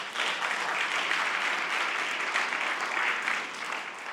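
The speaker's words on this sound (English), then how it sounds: "So first of all, give yourselves a round of applause." Audience at a Tibetan National Uprising Day rally in London applauding, a dense, steady wash of clapping that holds for several seconds and then tapers slightly.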